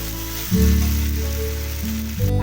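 Sliced raw banana crackles and sizzles steadily in a frying pan, a short unbroken hiss over a low droning tone in the background.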